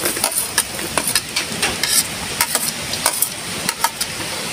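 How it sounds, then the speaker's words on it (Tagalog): Butter and garlic sizzle and crackle in a hot pan for a spicy buttered garlic shrimp dish, a steady close frying hiss with quick spatula scrapes and stirring taps. "magigisa na tayo ng ating butter. Garlic."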